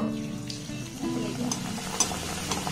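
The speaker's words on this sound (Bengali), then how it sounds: "এবার একটা করে পিঠে এই তেলের মধ্যে আমি দিয়ে দেব।" Taal pitha, palm fruit cakes, fry in medium-hot oil in a kadai with a steady close sizzle and occasional soft crackles; background talk under it.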